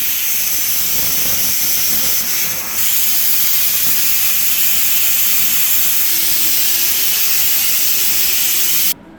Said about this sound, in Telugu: విజిల్ అయితే తీసేసాం.